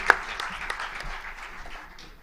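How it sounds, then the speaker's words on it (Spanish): Audience applause at a medical conference on abdominal wall surgery, a brief, fairly faint wash of clapping that fades out toward the end. "así que Carrero, un aplauso muy grande"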